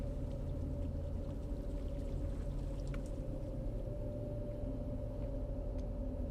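A tap left running pours water in a steady, unbroken low rush that stays even and fairly faint for several seconds, with no voices over it.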